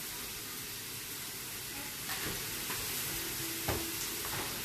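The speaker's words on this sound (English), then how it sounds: "give it a good stir, get those seasonings all around in there" Food seasoned with black pepper, garlic powder and onion powder sizzles steadily in a hot pan, with faint scraping from a spoon stirring it and a brief clink partway through.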